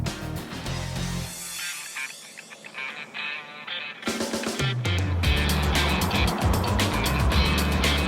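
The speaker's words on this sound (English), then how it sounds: "we are on the way to test this Focus Turbo Diesel" A Ford Focus Turbo Diesel out on the road, heard as a steady engine and tyre rumble that fades briefly and then grows louder and fuller, close and continuous, with no talking.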